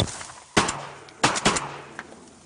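Shotgun blasts fired at two drake ducks during a public-land duck hunt: three sharp, loud reports, one followed by a pair in quick succession, each trailing off into open air.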